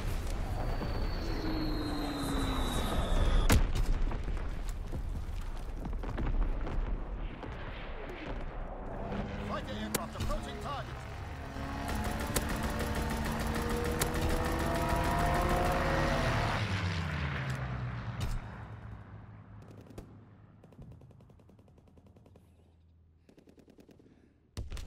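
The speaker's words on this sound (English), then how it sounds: "Firing primary battery" Primary battery artillery firing in Call of Duty: heavy booming blasts and rumbling concussions amid dense battle noise and aircraft drone, loud and sustained before fading out near the end.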